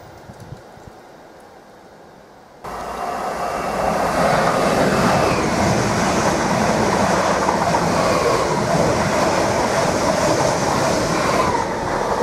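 Electric passenger unit 745002 races through Needham Market station at speed, a loud, steady roar bursting in after a quieter moment and holding close and full to the end, with no voices.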